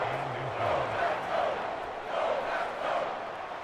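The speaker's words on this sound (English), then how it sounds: "this crowd trying to force a false start here." A football stadium crowd at a Packers versus Rams game gives off a loud, steady roar that swells in waves, with rhythmic chanting under a commentator's voice.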